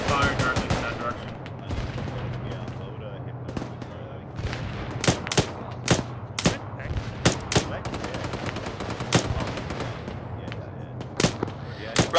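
Gunfire in the military video game Arma: scattered single shots and short bursts crack out loudly over a low steady rumble, irregular and spread through the second half, with muffled radio-style talk underneath.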